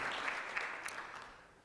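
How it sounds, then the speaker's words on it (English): Festival audience at the 16th annual FilmAid Film Festival applauding K2, a brief burst of clapping that fades out toward the end. "I should like another round of applause for K2"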